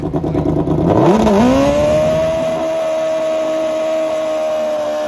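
A Matt Smith Racing Suzuki drag motorcycle at an NHRA test session roars loudly, its engine note sweeping up through a quick shift and then holding a steady high-pitched drone as it pulls away.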